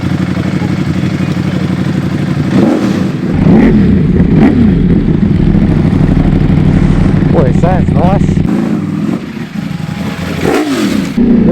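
A loud Ducati Panigale V4R engine with an Akrapovic race exhaust warms up, idling and revving with a rough, throaty exhaust, a few sharp blips rising and falling, while someone speaks briefly over it.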